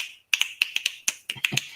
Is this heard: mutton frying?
no